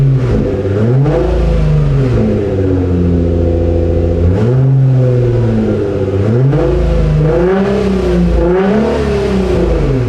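A Nissan R35 GT-R engine idles loud and close after timing work, its steady hum rising and falling in pitch through several gentle revs.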